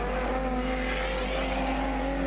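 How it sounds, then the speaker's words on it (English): Border stock car racing at a regional race meeting, a loud continuous engine roar with steady sustained tones and no break across the clip. "Sounds coming from the Vucht car there, absolutely stunning stuff there."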